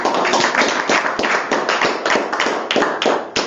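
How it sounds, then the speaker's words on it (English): A small group at a school board meeting claps steadily for a few seconds, dense overlapping hand claps at close range with no talking. "let's give him a round of applause"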